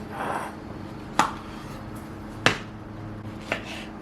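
Cooked potatoes being cut in half with a knife on a cutting board, with three sharp, close knocks of the blade hitting the board at irregular intervals over a soft background hum.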